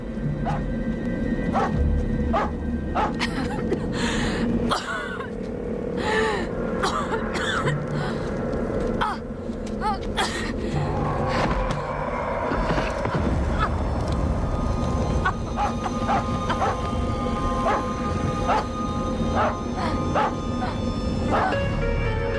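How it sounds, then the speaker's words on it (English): Repeated dog barks, loud and close, scattered through a busy, noisy scene with other overlapping sounds. "What are you barking at?"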